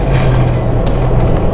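Continuous close engine and road roar from a Dodge Ram 1500 Overland on large off-road tires, driving at highway speed with the gas pressed, a steady low hum with broadband tire and wind noise.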